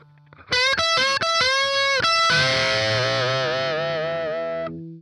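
Electric guitar with distortion plays two bars of a solo: a quick run of bent and pulled-off high notes, then a long sustained note with vibrato that slowly fades, loud and up close.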